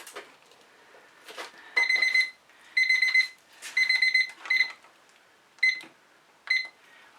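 Timer alarm ringing in bursts of rapid electronic beeping, several evenly spaced pulses that shorten toward the end, close and fairly loud over quiet background, no speech.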